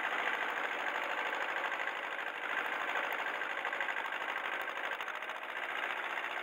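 A Kubota 1550 tractor engine, unserviced for 25 years, runs at a steady idle in rainy Ireland, giving a continuous, even mechanical drone with fast rhythmic ticking and no voices.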